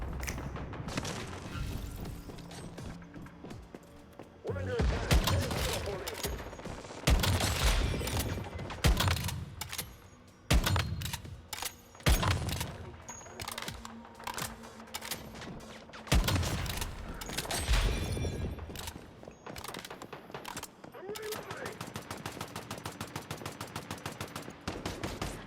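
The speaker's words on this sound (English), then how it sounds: "Who's shooting what way?" Gunfire in the video game Once Human comes in repeated bursts of rapid shots and heavier booms, loud and dense, with short pauses between volleys and no talking.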